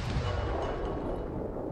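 Gunfire in a WW2 video game set in the Norwegian campaign, a dense, continuous rumble of shots and booms at a steady level, with no talk over it.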